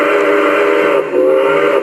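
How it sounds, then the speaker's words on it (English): A steam whistle blows from an MTH model train run on a DCS remote, held down as a loud continuous chime with a brief dip midway before resuming, close and alone. "If you hold the whistle down for an extended period of time"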